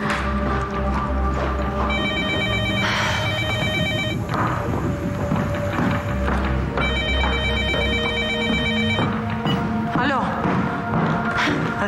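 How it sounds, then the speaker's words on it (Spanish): Two bursts of an electronic telephone ringtone sound in a telenovela domestic scene, each a steady repeating trill, with background sound and voices underneath. "Al fin llamas, Federico."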